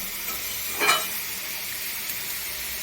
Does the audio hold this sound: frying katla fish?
yes